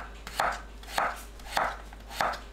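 A kitchen knife cuts potatoes into 0.4 cm slices on a cutting board, four evenly spaced crisp chops about half a second apart, close and clear with no talk.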